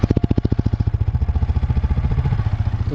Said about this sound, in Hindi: एक बार साइलेंसर का साउंड सुनो इसका।